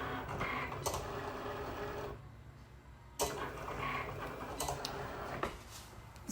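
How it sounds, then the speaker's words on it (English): A Cricut cutting machine works through a T-shirt design, giving a steady close mechanical whirr with a brief pause in the middle and a few small clicks as the carriage moves. "it's cutting the design now. That's it called cricut machine."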